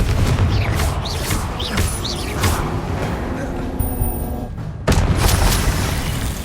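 A Confringo explosion spell bursts in the Hogwarts Legacy video game, with dull booming blasts and crackling impacts over constant battle noise, and a voice speaks during the fight.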